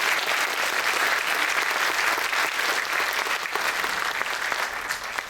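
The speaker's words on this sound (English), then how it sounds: "let's give a round of applause to Derek." Steady, sustained applause from a crowd at a 2013 spring demo day, a dense wash of clapping hands that holds at an even level throughout.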